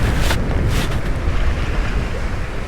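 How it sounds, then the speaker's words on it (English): Strong 20-knot northwest wind on a sailboat in the Atlantic, steady loud buffeting roar across the microphone with water rushing against the hull and occasional gusts, no voices. "right now, 20 knot wind"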